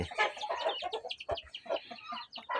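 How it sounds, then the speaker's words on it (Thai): Free-range chickens, including breeding roosters, hens and chicks, cluck and chatter together in a farm yard, a busy overlapping mix of close calls with no talk. "โซนไก่ปล่อยพี่น้องเป็นไก่พ่อพันธุ์แม่พันธุ์แล้วก็ ลูกไก่"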